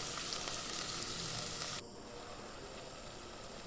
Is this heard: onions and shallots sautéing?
yes